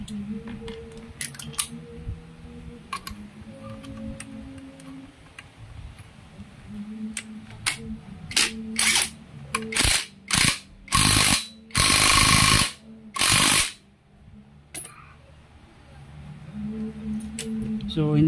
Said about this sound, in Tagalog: Higpitan pa rin natin dito para sure ball tayo.